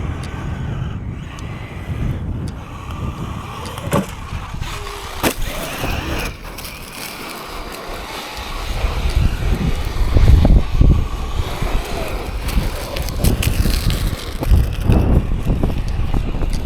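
Arrma Granite or Traxxas X-Maxx RC monster truck driving outdoors, a steady motor whine with buzzy engine-like drone and wind buffeting the microphone, growing louder and rougher in the second half as it runs closer.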